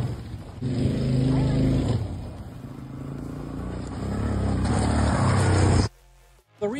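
A Honda big wheel motorcycle's engine runs close by with a steady rumble that rises and falls, then cuts off abruptly near the end; a voice can be heard over it.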